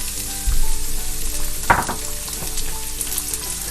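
Chopped onions sautéing at high heat in a pan for Chinese-style chilli chicken, a steady close sizzle with a sharp burst of stirring or tossing partway through, no voices.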